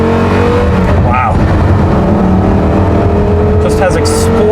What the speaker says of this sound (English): You can hear everything that goes on in the engine, you hear the gear changes, you hear the tires on the pavement.